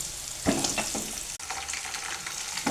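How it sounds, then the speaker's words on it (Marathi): Onions and peanuts frying in hot oil in a pan, a steady loud sizzle with stirring scrapes and a brief pause midway, no talk. "कांदा सगळं मस्त छान परतून झाले."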